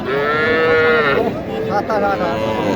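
Small calf mooing at a busy cattle market, a near, loud drawn-out call with babbling voices of the crowd around it.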